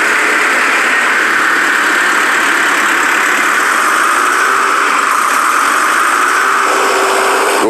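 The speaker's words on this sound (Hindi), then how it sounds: "एक वर्कर तैयार ट्रैक्टर को रोड टेस्ट के लिए ले जाता है।" A finished tractor's engine runs steadily at a factory before its road test, a loud, continuous mechanical drone with a faint tonal whine and no voices.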